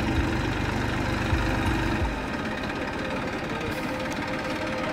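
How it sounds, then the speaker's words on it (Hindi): Tractor engine idling at Sambhar Salt Lake in Rajasthan, a steady low diesel throb with a rhythmic chug, loud and close, continuous for the whole stretch. "ये रहा ट्रैक्टर"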